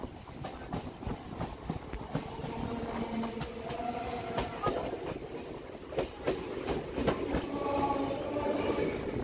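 A Sealdah–Namkhana EMU local train from the 71000-series rakes runs on rails, its rolling rumble steady and moderately loud, with repeated rhythmic clickety-clack wheel impacts and some brief squeals.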